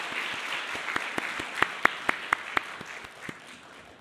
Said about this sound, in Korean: 축복의 박수로 함께 해주시기 바랍니다